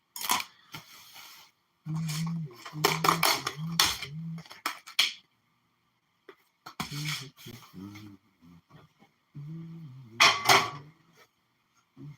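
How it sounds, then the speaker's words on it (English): A knife chops green onions and garlic on a board with quick, sharp taps in short clustered runs. The chopping is close, with brief pauses and a final burst, and there is no talking. "Cutting up some green onions and some garlic."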